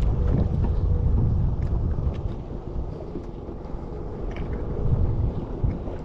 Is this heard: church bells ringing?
no